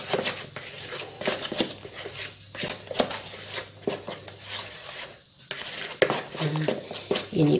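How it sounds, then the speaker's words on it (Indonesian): Yellow-coloured cassava dough stirred in a bowl with a utensil, repeated soft scraping and rubbing strokes in an uneven rhythm, close and fairly quiet. "Ini dicampur sampai merata yang kuning."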